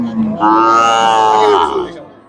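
A young Sahiwal calf at a cattle market gives one long, loud, close moo that swells and holds for well over a second before trailing off.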